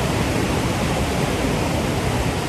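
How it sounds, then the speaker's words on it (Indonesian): Ocean surf on a southern Java beach at Goa Langse, a steady, loud broadband roar of breaking waves with no distinct individual crashes, continuous throughout and alone without any voices. "makin siang nih ombaknya itu semakin besar"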